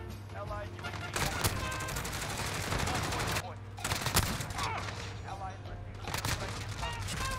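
Sustained automatic fire from a gold Grau rifle in a shooter video game, a dense, loud, continuous rattle in long bursts separated by short pauses.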